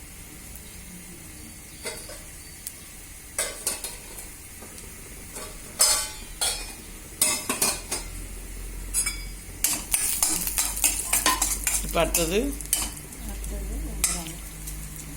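Garlic sizzles in a hot pan with intermittent stirring and scraping clatter, punctuated by utensil clinks; a brief voice speaks near the start.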